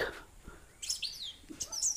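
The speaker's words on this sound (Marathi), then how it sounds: "पक्ष्यांचा किलबिलाट हा तुम्हाला इकडे" Thin, high bird chirps and tweets come in short bursts in the second half, faint and somewhat distant over quiet background noise.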